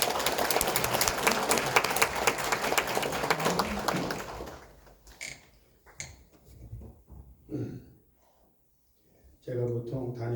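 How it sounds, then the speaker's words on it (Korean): A church congregation claps to welcome the pastor to the pulpit, loud steady applause for about four seconds that then thins out, followed by someone speaking. "우리 목사님 나오실 때 우리 박수로 환영하겠습니다"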